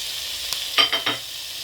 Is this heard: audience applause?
no